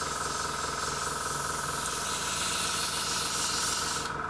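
An airbrush sprays thinned acrylic hobby paint in a steady, continuous close hiss of air and mist that runs unbroken for about four seconds before cutting off abruptly.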